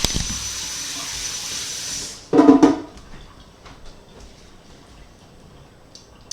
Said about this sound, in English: Give my hands a wash.